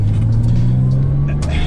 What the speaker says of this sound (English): this is my very first Porsche driving experience